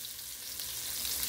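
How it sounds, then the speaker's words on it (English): Shrimp fry in hot oil as breaded shrimp scampi cooks, giving a steady, loud, continuous sizzle with no gaps, heard alone with no talk. "That's what you want to hear, nice sizzle sizzle."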